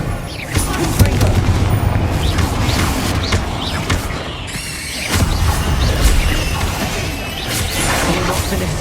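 Explosive spell blasts in the video game Hogwarts Legacy, a continuous booming, crashing battle din with repeated impacts and a heavier burst near the middle, loud and close throughout.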